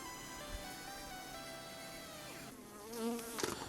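Honey bees hum at an opened beehive in a Ukrainian apiary, a faint steady buzz with a few louder passes of individual bees close by near the end.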